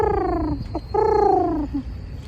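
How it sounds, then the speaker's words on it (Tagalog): Pigeons coo nearby in Japan in soft, throaty, repeated calls, two main phrases with short gaps between them. "Daming kalapati mga kapaps, oh."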